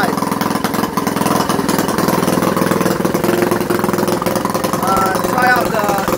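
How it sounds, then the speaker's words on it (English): A go-kart with a patched-up, cold clutch idles steadily close by, its small engine giving a continuous even drone with a light rhythmic chug that holds for the whole stretch. "I'm going to take the go-kart out for a little ride."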